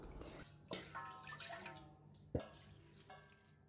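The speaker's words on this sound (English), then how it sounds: "Wash down any grain stuck on the basin." Water splashes and drips as leftover brown rice grains are rinsed from a basin into a rice pot, a few soft irregular trickles with two sharper splashes, close and fairly quiet.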